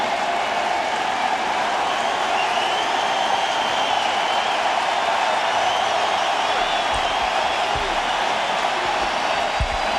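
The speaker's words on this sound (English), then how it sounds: "a huge round of applause for Pryor" A huge stadium crowd at a 2003 NLCS playoff baseball game between the Florida Marlins and Chicago Cubs keeps up a broad, steady wash of applause and cheering, distant and continuous, with no distinct individual claps standing out.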